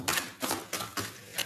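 A deck of tarot cards is cut and shuffled, producing a few crisp papery slaps and riffles in quick succession, close up and fairly quiet with no talking.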